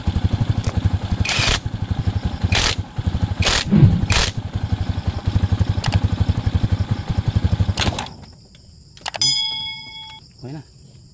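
A Rusi Macho 175 motorcycle idling at low RPM with a steady rapid putter and a few sharp clanks over it, then the engine cuts out and is followed by quiet clicks and ringing tones.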